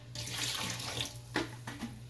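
Water pours steadily into a large pot for 2.5 kilograms of rice for a restaurant-style masala pulao, making a continuous close splashing rush with a few brief sloshes and no talking.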